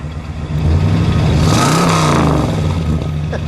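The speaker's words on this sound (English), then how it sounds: "Go ahead, give it a rev." A 1966 Buick Wildcat GS V8 engine (425 cubic inch) climbs from idle into a loud rev, its pitch rising then falling back, close and throaty with no talking.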